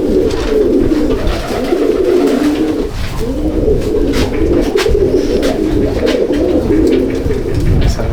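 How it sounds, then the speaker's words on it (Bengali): Red checker racer pigeons coo steadily in a loft, the low rolling calls continuing close and loud throughout with no talking. "রেসার পায়রা।"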